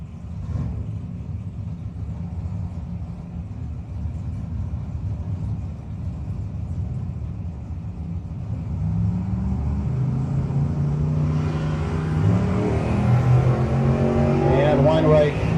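Drag racing cars, including a Camaro, run down the strip at a no-box 660 shootout, a steady engine roar that swells louder toward the end with commentary talk over it.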